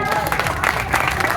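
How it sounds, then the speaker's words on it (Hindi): An audience at a memorial speech gathering claps in a short, dense burst, the clapping close and lively with a voice briefly mixed in. "एक बार अपने आप के लिए तालियां बजाओ।"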